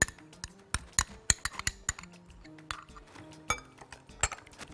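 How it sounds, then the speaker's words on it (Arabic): Beet and white bean salad dressed with Dijon mustard dressing is stirred in a bowl, giving close, irregular clinks and taps of a utensil against the dish. The clinks are sharp and come in a busy, uneven rhythm. "نقلب كويس قوي قوي"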